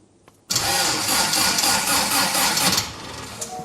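On the Gemini build, the engine cranks over in one abrupt, loud burst lasting about two seconds, then cuts back to near quiet.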